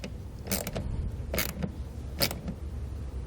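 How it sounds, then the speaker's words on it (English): A socket wrench ratchets a nut down onto a gold post while a Roadmaster battery charge line kit is fitted to a towed vehicle. There are three close, separate bursts of clicking strokes with no voice. "We can come back with a socket and snug it down."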